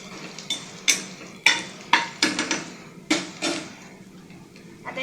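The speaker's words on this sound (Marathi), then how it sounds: "याला आपण नीट सगळीकडे असं मिक्स करून घेऊया." Maggi noodles with soy sauce are stirred in a pan for a cheesy Maggi dish, with a utensil scraping and clinking against the pan in irregular strokes over a soft sizzle.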